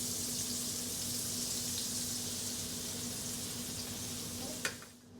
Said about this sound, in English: the butter is already melting